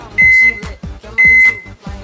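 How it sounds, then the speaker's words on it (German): A microwave oven sounds two loud, sustained electronic beeps, close and clear, over a pulsing mechanical rumble from the running appliance. "Für 2 Minuten in die Mikrowelle."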